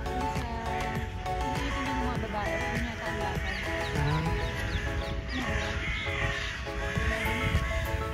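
Crows caw repeatedly in Brussels Park amid a busy outdoor din, their harsh calls overlapping with other birds and distant people nearby.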